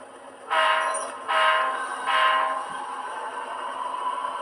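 An HO/OO scale model train locomotive pulls forward on a small Gracefield Branch shelf layout, giving three rising whirring surges of motor and wheel noise, each lasting under a second, then a steady, fainter running hum.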